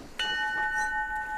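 A ship's bell gives a single bright clang that rings on with a steady metallic tone, heard alone and fairly clear.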